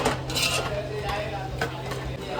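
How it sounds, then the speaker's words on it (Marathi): Vegetables being stirred in a pan over a high flame: a spoon scrapes and clinks against the metal over a faint, continuous hiss, close and moderately loud. "तर आता त्याला मिक्स करायचं आहे नीट"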